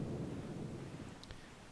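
Rain and thunder on a dark night over the Great Sea in The Legend of Zelda: Wind Waker HD, a soft, steady hiss of rainfall over a low, distant rumble, quiet and brief.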